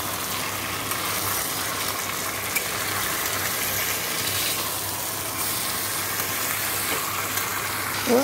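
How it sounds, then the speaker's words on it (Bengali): Chicken being sautéed in a pan for kosha, giving a steady, close, broadband sizzle that holds at even loudness throughout with no talking. "আর এদিকে দেখো চিকেন কষা হচ্ছে।"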